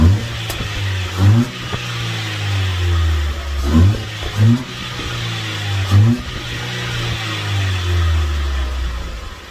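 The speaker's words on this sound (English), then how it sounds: "This is the before the exhaust upgrade." A 2015 Ford Fiesta SE with the 1.6 engine and stock exhaust revs repeatedly in several sharp bursts that rise and fall, heard up close with no talking.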